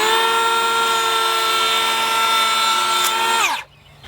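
A Ridgid Octane 18V cordless 3.25-inch hand planer runs through pallet wood with a loud, steady whining drone. Near the end the motor cuts off and winds down quickly to quiet.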